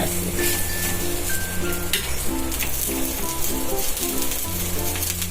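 Patties sizzle steadily in hot oil in a pan over a low gas flame, a loud, close, continuous crackle that runs unbroken throughout with no talk.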